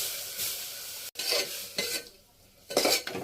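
A spoon stirs a toor dal, moong dal and potato mixture in a pot, giving several short close scraping strokes with a soft sizzle between them and no talking.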